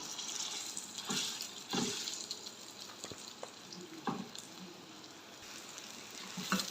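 Kabab mixture of boiled potatoes and semolina frying in a pan: a steady close sizzle with scattered stirring scrapes and small clicks, no talking.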